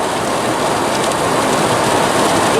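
Rain drums steadily on a car driving toward Deer Lodge, Montana, a loud, even hiss that fills the cabin without pause.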